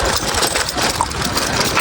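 A tractor engine runs steadily with a rotavator attached during morning farm work, a dense, continuous mechanical drone that stays close and loud for the whole stretch, with no voices.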